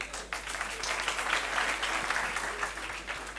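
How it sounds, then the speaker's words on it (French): An audience claps steadily throughout, a sustained wash of applause in a room, moderately loud and unbroken. "Applaudissez très très fort pour elle, s'il vous plaît."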